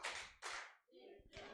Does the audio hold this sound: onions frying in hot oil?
no